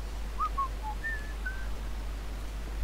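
A person whistles a short, bright melodic phrase of about five quick notes during a bank heist in the video game Grand Theft Auto V, clear and alone over a faint low hum.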